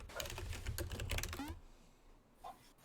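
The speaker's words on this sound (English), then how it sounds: "I can hear your furious typing." Rapid, furious typing on a computer keyboard, a dense run of sharp key clicks at close range for about a second and a half, then a near-silent pause with one faint extra tap.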